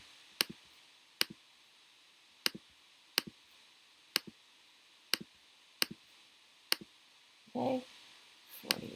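Calculator keypad buttons are pressed one at a time, about nine sharp plastic clicks spaced roughly a second apart, near and fairly quiet, with a brief soft rustle near the end.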